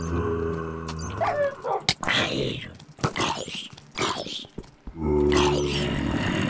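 A tamed wolf barks in the video game Minecraft, a few short, sharp yaps breaking through the game's background hum while a person talks over much of it.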